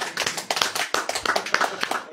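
An audience claps hands in a steady burst of many overlapping claps, fairly loud and close, with no talk over it.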